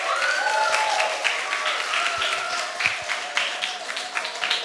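An audience applauds students at a national reading competition hall, dense steady clapping across the whole span with a few sharper individual claps standing out, moderately loud with faint voices mixed in.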